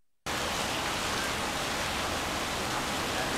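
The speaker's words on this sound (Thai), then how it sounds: "ทำไมชีวิตกูต้องมาไลฟ์สดกลางสายฝนด้วยวะ" Heavy rain falls outdoors during a live stream: after a brief silence it cuts in as a loud, dense, steady hiss that stays even and unbroken throughout.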